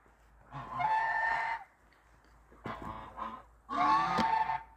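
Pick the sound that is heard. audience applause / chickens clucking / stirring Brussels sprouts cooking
chickens clucking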